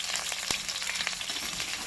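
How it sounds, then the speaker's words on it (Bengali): Cauliflower frying in hot oil gives a dense, continuous crackling sizzle with small pops, close and steady throughout. "ফুলকপিটা যতক্ষণে ভাজা হচ্ছে"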